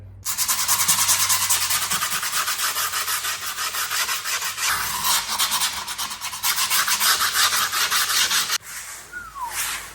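Edges of a new Caballero skateboard deck being sanded: a loud, close, continuous rasping with fast back-and-forth strokes, briefly stopping near the end before resuming.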